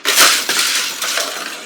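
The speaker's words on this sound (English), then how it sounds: "Kurt Busch crashes out." A stock car wrecks in a NASCAR Cup Series racing game at Bristol, a Monster Energy Chevrolet Camaro crashing out in a loud, harsh crunching smash that sustains briefly with gritty scraping debris.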